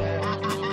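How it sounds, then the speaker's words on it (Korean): Female geese on a farm honk loudly and continuously at close range during mating, a harsh nasal call with steady low hum beneath. "암컷 거위들이 교미를 하고 있다."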